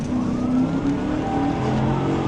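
Car tearing away from a gas station during a police pursuit, a steady close engine roar with rising pitch as it accelerates, loud and alone.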